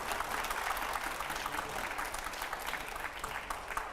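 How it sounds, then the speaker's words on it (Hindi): An audience on a televised show with Manoj Tiwari and editors claps hard for Manoj, a sustained, moderately loud crowd applause with steady texture from start to finish. "एक बार पहले जोरदार तालियां मनोज जी के लिए"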